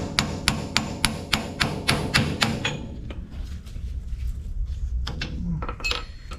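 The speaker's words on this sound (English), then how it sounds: "so just tap it in a little bit." Hammer tapping a socket to drive in an axle seal on a 1966 Ford F100, about ten sharp metallic taps in a steady rhythm, close and crisp, followed by quieter shop noise and a few faint knocks.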